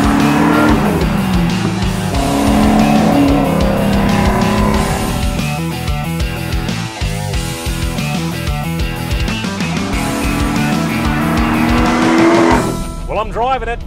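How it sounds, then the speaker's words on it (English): A 1967 Ford Mustang GT500 Eleanor with a supercharged build drives hard, its loud engine roaring steadily close by with squealing tires near the start and a sharp change near the end, while voices talk over it. "Well, I'm driving it, this 1967 GT500 Eleanor."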